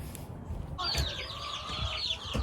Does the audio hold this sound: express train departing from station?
no